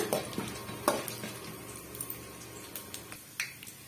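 Chana dal and urad dal frying in a pan for lemon aval: a soft background sizzle broken by sharp, irregular clicks and scrapes of a spoon stirring against the pan, quiet and close.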